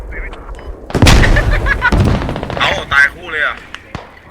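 Rocket launcher impacts and heavy gunfire from the video game Squad, a loud close boom followed by rumbling blasts and sharp shots, with a voice talking excitedly over the battle.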